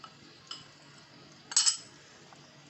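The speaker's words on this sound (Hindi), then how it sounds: "लेकिन यह है कि चम्मच आपने मुसलसल चलाते रहना है इसका।" A metal spoon clinks and scrapes against a pot while stirring sabudana kheer, with a few soft taps and one brighter clatter in a quiet kitchen.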